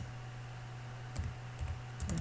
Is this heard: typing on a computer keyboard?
yes